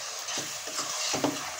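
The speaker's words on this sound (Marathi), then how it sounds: "छान असं मिक्स करून घ्यायचं आहे आपल्याला." A spoon works ground masala paste into a mixed bean curry in a pan, making a few soft, uneven scraping strokes with a faint sizzle underneath, close and fairly quiet.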